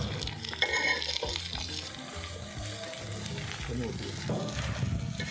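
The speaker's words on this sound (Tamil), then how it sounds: "மூணு கப்பு சேர்த்துட்டு அப்படியே வதக்கிக்கலாம்." Chopped onions sauté and get stirred in a pan for poori masala, a busy sizzle with scraping and clattering stirring strokes, close and fairly loud.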